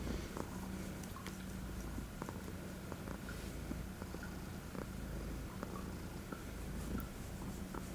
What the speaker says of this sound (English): just wanted to give you guys a little purr so you could hear that